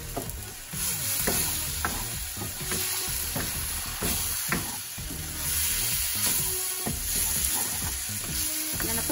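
Schezwan samosa filling with soy sauce mixed in a hot pan, a busy sizzle overlaid with repeated spatula scrapes and knocks at a steady pace, close and moderately loud, no speech.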